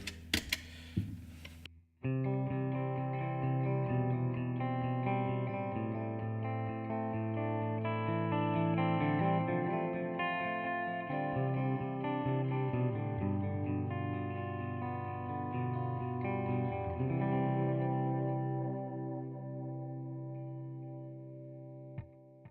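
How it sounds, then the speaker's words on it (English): A guitar plays sustained chords and notes through a dotted-eighth delay effect, each sound repeating in rhythmic echoes that layer and slowly fade out. "it's the exact same delay, exact same settings, except for it's set to dotted 8"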